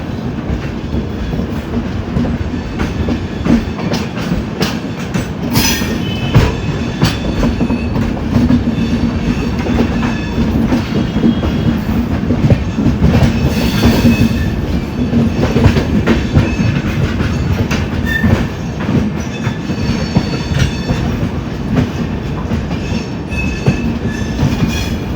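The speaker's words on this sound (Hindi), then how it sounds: "दोस्तों ट्रेन अपनी अराइव कर रही है न्यू दिल्ली।" The Subedarganj New Delhi Special passenger train rolls on the tracks from start to finish with a continuous heavy rumble and rhythmic clickety-clack of the wheels, steady and close, with no voices.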